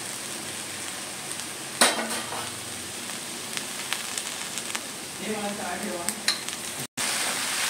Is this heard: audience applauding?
no